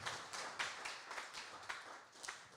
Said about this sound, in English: would you mind giving a big round of applause for our hardworking team that's serving you and making your food?